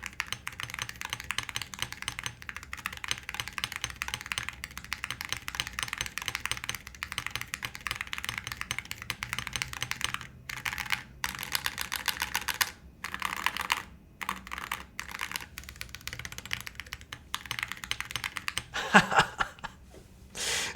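Sustained fast typing on a Holy60 keyboard with gold Awekeys metal keycaps, a continuous close-up clatter of metallic keystrokes with brief pauses, and light laughter near the end.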